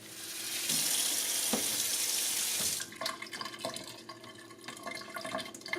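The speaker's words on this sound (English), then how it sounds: "Now, you need to wash the strawberries." Tap water gushes loudly into a sink as strawberries are rinsed, then the flow stops and gives way to dripping, splashing and light clattering of the fruit being handled.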